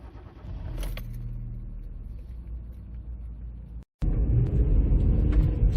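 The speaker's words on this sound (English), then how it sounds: "let's go on the road and" A 2007 Hyundai Getz 1.4 CDX pulling out onto the road, its engine and tyre rumble steady and close from inside the cabin, with a brief cut before the noise returns louder as it picks up speed.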